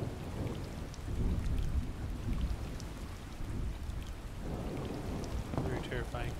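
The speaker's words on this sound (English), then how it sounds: "while we observe the mist and the thunder" Heavy rain hisses steadily while low rolling thunder rumbles underneath, swelling and fading in broad waves, with a second deeper roll building toward the end; no voices.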